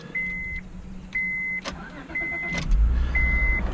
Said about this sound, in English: Classic Honda starter, really like that.